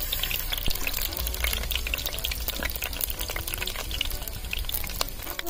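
Fenugreek and mustard seeds pop and crackle in hot coconut oil for a country-style snakehead fish curry, a dense, steady, close-up spatter with no voices.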